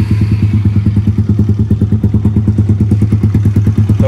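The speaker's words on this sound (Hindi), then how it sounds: "तो अभी मैं आपको स्टार्ट करके दिखा देता हूँ इंजन।" A Bajaj Pulsar NS200 motorcycle engine runs close and loud after a tappet clearance adjustment, with a steady, fast thumping idle and a light mechanical clatter throughout and no talking.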